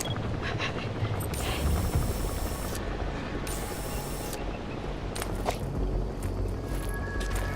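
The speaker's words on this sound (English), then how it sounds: "Support helicopter requested" Support helicopter arriving in Metal Gear Solid V, a steady broad rotor wash and rumble with intermittent hissing bursts layered over outdoor ambience, continuous throughout.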